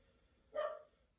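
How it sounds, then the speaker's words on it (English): A single short, faint bark from a dog somewhere indoors, standing alone over low background hiss. "sorry about my dog barking right now."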